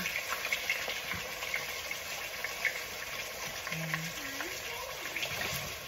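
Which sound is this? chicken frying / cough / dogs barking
chicken frying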